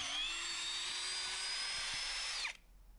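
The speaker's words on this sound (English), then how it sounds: "it can drill a 10mm hole fairly quickly and easily" A Ferrex Pro 40V brushless cordless combi drill bores a 10mm hole with a worn bit, a steady loud high whine that runs for about two and a half seconds before cutting off abruptly.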